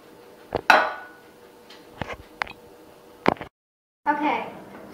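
Beaten eggs and wet ingredients going into a mixing bowl for homemade dog meatballs, heard as a few sharp clinks and knocks of utensil against bowl, with scraping and handling noises between them and a short silent gap.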